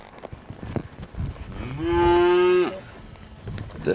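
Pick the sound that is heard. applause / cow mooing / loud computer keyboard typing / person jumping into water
cow mooing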